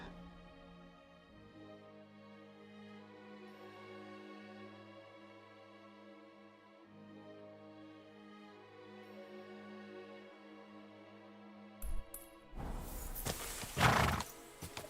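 A horse in the video game Kingdom Come: Deliverance 2 whinnies and its hooves clatter over a soft, sustained musical background, with the loudest bursts of neighing and hoof noise near the end.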